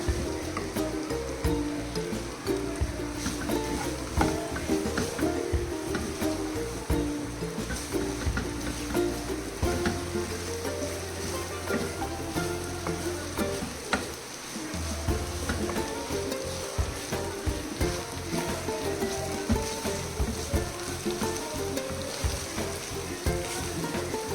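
Chicken frying in a pan and being stirred over a raised flame, a steady loud sizzle broken by repeated scraping and clanking strokes of the spoon throughout.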